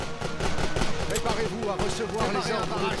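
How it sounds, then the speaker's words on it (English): Artillery fire from a rolling barrage on a Great War Western Front battlefield, heard as a dense, continuous rumble of repeated booms and crackling blasts under a speaking voice. "And they have artillery. They're going to be doing a rolling barrage by the looks of things."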